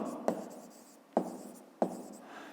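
A pen scratches on paper while working a maths exercise, three short sharp strokes each followed by a quieter trailing scratch, faint and close.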